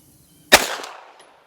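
A single sharp gunshot from a PSA AR-V, an AR-15 style rifle built to look like an MP5, cracks loud and close at a shooting range, then trails off in a brief decaying echo with no voices.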